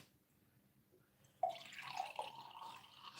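Regular water is poured into coconut milk, starting abruptly as a close, trickling splash with a few drips and continuing steadily to the end.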